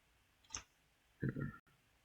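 A computer mouse clicks while working in Google Sites, one sharp click followed by a short double click, with a faint voice under it.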